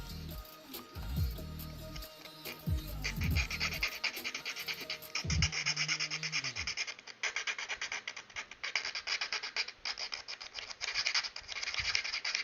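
Sandpaper rubbing back and forth over a small 3D-printed plastic AT-ST drop pod part, a steady close scratchy rasp with uneven strokes and occasional handling knocks.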